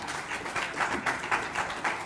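Applause for players being honoured at an award ceremony, a crowd clapping in repeated swells, moderately loud and close, with no voices over it.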